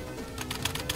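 Quiet computer keyboard typing during a homemade typing game, a brief run of soft rapid keystrokes clicking under faint background music.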